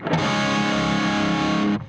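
Telecaster electric guitar through full distortion, one sustained, thick chord ringing loud for nearly two seconds before cutting off abruptly.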